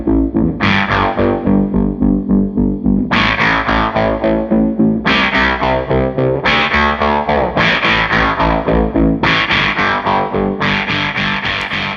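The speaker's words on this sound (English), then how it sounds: "is a really cool pedal that has a really awesome ramping tremolo sound" Distorted electric guitar chords played through a ramping tremolo effect pedal, loud and steady, with repeated rhythmic pulsing and strummed attacks throughout.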